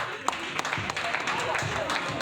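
Applause from the audience at a Talent Voice singing-contest final as a contestant is welcomed, a dense steady patter of clapping with voices talking through it.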